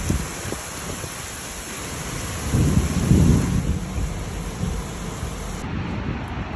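Thunder rumbles through a heavy rainstorm from a dense rain cloud, a broad low roll swelling near the middle over steady rain hiss and wind, with no voices.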